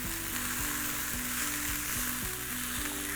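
Chopped onions sizzle in a hot pan for squash lasagna, a loud steady frying hiss with faint clinks of stirring, close up and without talk.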